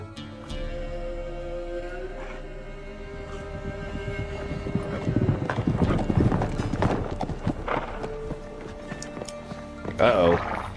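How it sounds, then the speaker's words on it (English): Horse hooves clip-clop in the Witcher 3 video game, a steady clatter of hoofbeats that builds toward the middle, with a horse whinny and game voices talking over it. "Horse hooves and people are leaving."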